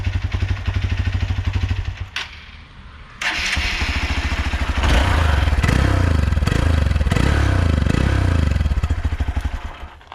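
A Hero Xpulse 200 motorcycle with stock exhaust and the muffler removed starts up nearby. Rough clattering cranking gives way to a loud, bassy, uneven idle with several rhythmic throttle blips.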